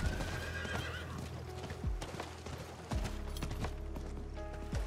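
A horse in an online video game trots with brisk clip-clop hoofbeats and lets out loud neighs and whinnies. The sounds are close and continuous, with no talking over them.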